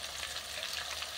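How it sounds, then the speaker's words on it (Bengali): Diced potatoes seasoned with salt and turmeric fry in a hot pan, giving a faint, steady hiss and sizzle with no talking. "আলুগুলো আমি ভেজে নিচ্ছি"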